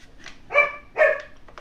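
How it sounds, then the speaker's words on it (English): Two sharp dog barks close by, a short pause between them, over an otherwise quiet background. "I do have dogs and they seem to be barking."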